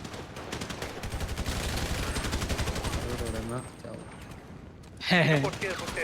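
Rapid bursts of gunfire crackle through a game soundtrack with people talking over it, ending in a louder blast near the end.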